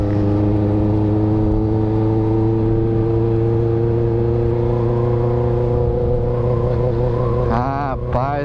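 A Honda Hornet motorcycle engine while riding, a steady loud droning hum with strong wind noise throughout, a brief rise in pitch near the end.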